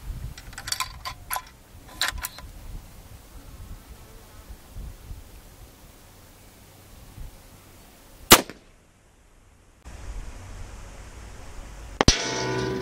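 A 7mm-08 rifle bullet strikes a 24-inch steel target at 1904 yards, giving a sharp, far-off metallic crack and a second sharp impact later, set against steady outdoor insect buzz and wind.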